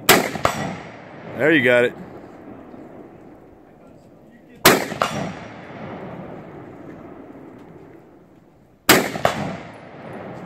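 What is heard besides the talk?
M1 Garand rifle gunshots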